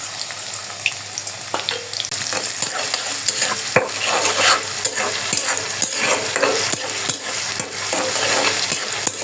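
Chopped garlic and onion fry in hot oil, a bright sizzling hiss with repeated scraping and stirring knocks of a spatula against the pan, loud and close.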